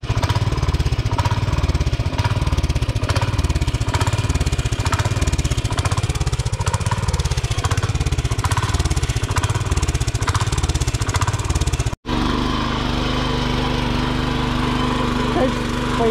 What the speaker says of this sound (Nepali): ट्र्याक्टर आइसक्यो त गोरुलाई त मजै मजा यार